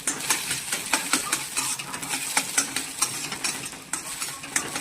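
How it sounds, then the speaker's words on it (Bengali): Egg frying in oil in an iron wok, a steady crackling sizzle with repeated sharp scraping and stirring clicks against the metal, close and fairly loud, with no talking. "আর এদিকে ডিমটা ভাজা হচ্ছে।"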